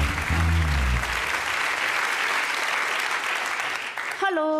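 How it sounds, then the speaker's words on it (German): A television studio audience gives a loud, sustained burst of clapping that fades near the end, with a voice heard briefly at the start and again as it dies away. "Alle begrüßen Sie mit einem schönen Applaus"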